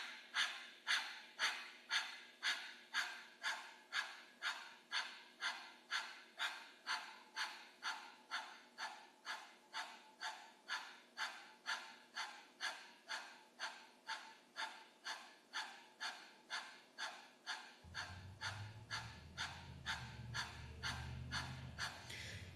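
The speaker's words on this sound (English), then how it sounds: "Begin your breath of fire." Rapid rhythmic breath of fire, a yogic breathing practice, pulses in steady forceful exhales about once a second, close and clear. Near the end a low background hum or music enters underneath.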